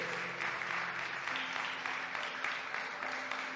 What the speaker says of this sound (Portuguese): Por qué no das un aplauso a Cristo, aquel que nos ayuda a poder caminar en santidad